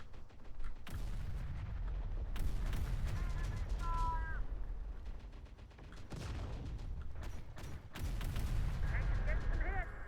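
Gunfire in the video game Terminator Dark Fate: Defiance, a dense run of loud shots and booms with sharp bursts over a constant rumbling battle bed, with game voices speaking over it.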